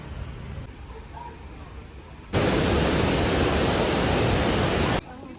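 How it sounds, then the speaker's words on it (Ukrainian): Loud, steady roar of a waterfall near Yaremche in the Carpathian mountains, beginning abruptly and holding as a dense broadband rush for a few seconds before cutting off, preceded by quieter outdoor ambience. "Приїхали там водоспад."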